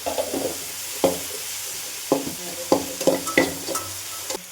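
Homemade ginger garlic paste is stirred into bottle gourd and brinjal frying in a pan: about six scraping strokes of a spoon against the pan over a soft, steady sizzle.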